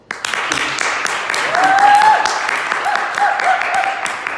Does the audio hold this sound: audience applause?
yes